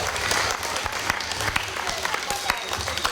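Steady audience applause fills the hall at a stage performance of recited readings, dense and continuous throughout.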